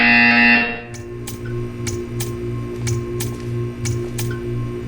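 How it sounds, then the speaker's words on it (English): A Portal 2 test-chamber buzzer sounds as a string of sharp, evenly spaced electronic pulses, about eight over several seconds, over a steady low mechanical hum after a brief louder tone fades. "You will hear a buzzer."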